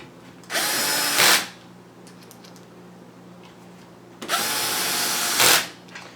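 Power drill driving screws into a Scuderia Audio 360/430 adapter setup, two separate bursts of steady whirring, each ending with a higher-pitched spin as the screw seats, close and fairly loud with a quiet pause between them.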